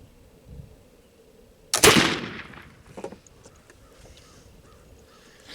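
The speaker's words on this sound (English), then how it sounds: "clean the gun barrel, and shoot a gunpowder I haven't tried yet" One sharp, loud black powder gunshot rings out, followed by a brief echoing tail and a few faint knocks in an otherwise quiet outdoor setting.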